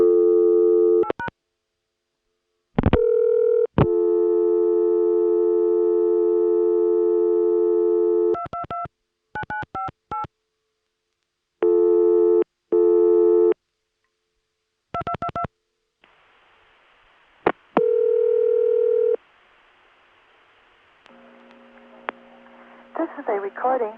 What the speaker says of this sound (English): When I dial 222-9958, I'll get a regular vacant code recording.